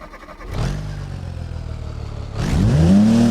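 A 1959 Burnside Special 232 inline-six engine turns over and catches, settling into a steady loud idle before revving up sharply with a rising whine near the end.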